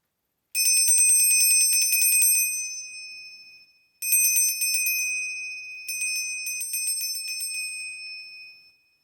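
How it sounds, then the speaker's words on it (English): A bell rung in three bursts, bright sustained ringing tones that fade between strikes, loud and close with no talking. "I'm going to ring a bell, so if you don't like the noise"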